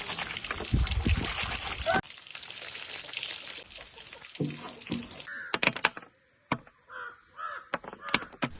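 Harvested Arabica coffee beans are washed in water. Splashing and running water is loud at first, then gives way to scattered clatters and drips, with crow caws nearby.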